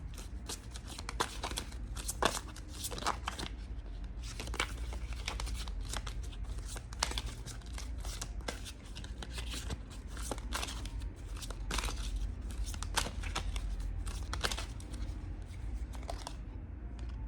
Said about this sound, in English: I'm going to pull out 2 of these cards just to get a little bit more clarity for deck 2.